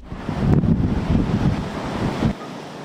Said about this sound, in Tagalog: Dama rin ang lakas ng ulan at hangin sa Pasay City.